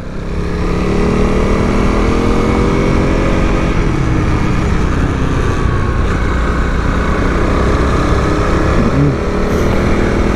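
A Honda CRF300L motorcycle being ridden up a mountain road gives a loud, continuous engine drone with steady wind rush, close and unbroken throughout, with no talking.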